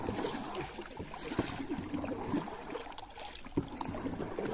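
A wooden rowboat being rowed on the Ganges, with soft water lapping and occasional knocks of oars against the hull, steady and close under a faint wash of ambient noise.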